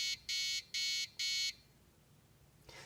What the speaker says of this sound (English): After the alarm sound, it takes a few seconds, about 30, to reset